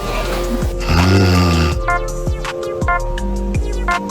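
A man's heavy snoring of the kind linked to sleep apnea: one long loud vibrating snore followed by a run of short choking snorts and gasps, close and alone.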